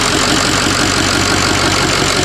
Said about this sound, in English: It's just idling perfect.